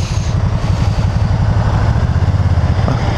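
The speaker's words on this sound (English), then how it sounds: "This is a 998cc V-twin, and durable as hell." Can-Am Spyder Roadster RT with a 998cc V-twin engine running close by, a loud steady throbbing idle with an even pulsing beat and no voices.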